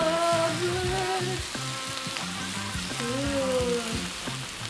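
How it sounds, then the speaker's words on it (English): Korean BBQ beef short ribs sizzle on a home grill with a steady, crackling hiss under background music, and a person speaks briefly. "Ooh, that sizzle. Nice sizzle."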